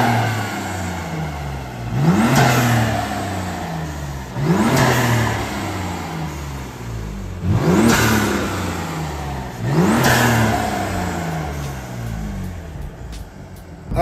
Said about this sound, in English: Give it a few revs real quick.